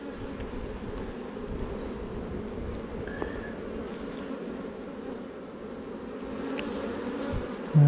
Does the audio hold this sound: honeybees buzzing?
yes